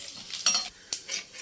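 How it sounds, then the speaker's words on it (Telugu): Garlic drops into hot oil already tempered with cumin and seasoning spices, giving a close, crackling sizzle with a few sharp stirring clinks, and no voices. "ఎల్లుల్లిపాయ అనేది వేసుకుంటున్నామండి"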